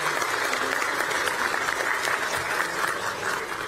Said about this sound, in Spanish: Pido un fuerte aplauso para los diputados de ese bloque.